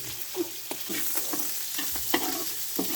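Onion, garlic and ginger sautéing in a pan for ginataang buko, a steady sizzle broken by the repeated scrape and clink of stirring, close and alone.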